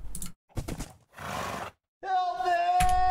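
A horse neighs in a video game, a loud tonal whinny with a strained, ringing quality that follows a few short bursts of player chatter and game noise.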